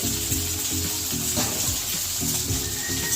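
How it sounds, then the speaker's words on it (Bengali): Onions fry in a pan for a Bengali snake gourd and potato posto dish, giving a dense, even sizzle that stays loud and close throughout, with faint scraping underneath. "একটু পেঁয়াজটাকে একটু ভেজে নেবো"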